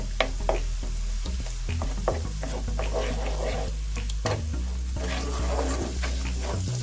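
Eggs sizzle and are stirred in a pan for egg fried rice, with a steady frying hiss and scraping utensil taps throughout.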